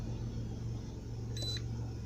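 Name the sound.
car seatbelt warning beep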